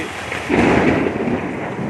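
A Kalbaishakhi thunderstorm brings heavy rain hissing down continuously, while a deep roll of thunder swells through the middle and fades, all of it near and loud with no one speaking.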